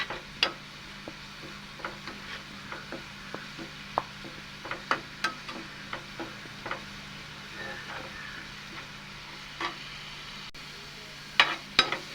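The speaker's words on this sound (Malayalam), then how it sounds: "അപ്പോൾ നമുക്കിതൊന്ന് നന്നായിട്ടൊന്ന് വഴറ്റിയെടുക്കാം" Fenugreek sautés in a pan for a Kerala fenugreek curry. A faint, low sizzle runs throughout, with scattered soft clicks and taps from stirring and a few louder knocks near the end.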